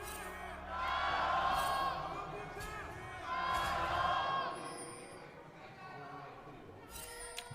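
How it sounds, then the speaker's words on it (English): Arena crowd of esports fans at a professional League of Legends match cheering in two big surging swells, loud and broad, then settling into a steady murmuring roar with a few scattered whoops. "The WE fans are still pretty loud."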